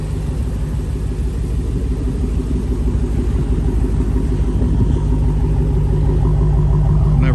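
A deep, steady stock exhaust rumble from a Dodge Challenger Hellcat idling close by, low and throaty with a slight swell toward the end.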